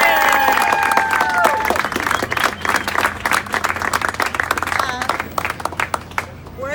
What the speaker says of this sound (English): a big round of applause for Vincent and Anya and Joseph